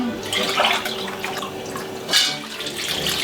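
Water rinsed out of a crushed-tomato can pours into a pot for chicken cassoulet, a short splashing, gurgling stream close by with a brief surge near the end and no talk.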